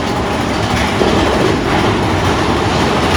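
A loud, continuous roar of a Magic Kingdom ride train rumbling through a cave, dense and echoing with rattling wheels throughout.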